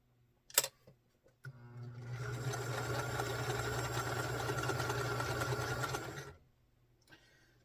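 A sewing machine stitches quilt pieces as leader and ender, running in one steady burst of about five seconds, close and fairly quiet, with a few faint clicks before it starts.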